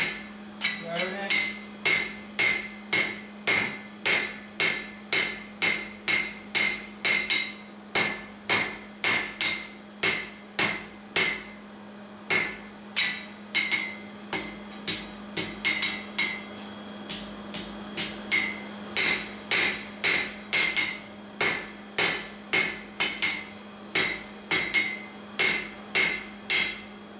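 A hammer strikes hot metal on an anvil, steadily flattening and tapering the point of a forged toasting fork. The ringing blows come close and loud in quick, regular runs with brief pauses between them.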